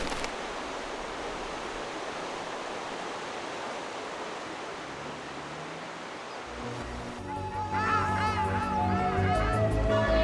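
Birds fly over Bhutan calling noisily, a loud burst of honking cries breaking out partway through after a long stretch of steady, wind-like rushing noise.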